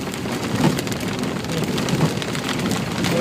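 Steady rain drums on the roof and windows of a car during a downpour in Çorlu, a dense continuous patter heard from inside the vehicle, with no talk.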